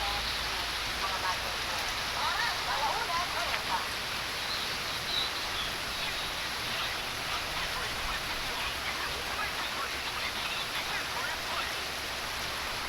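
Heavy rain pours steadily in Camagon, Patag, Opol, a dense, unbroken hiss of drops drumming on surfaces. It continues close and constant throughout with no letup.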